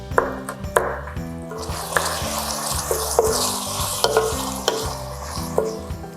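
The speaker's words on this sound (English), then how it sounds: "Then I add my meat in it and let it brown" Ground meat stirred and browning in oil in a pot for low-carb chili, a steady sizzle and frying hiss with repeated scraping stir strokes and light metallic pings from the utensil, close and continuous with no talking.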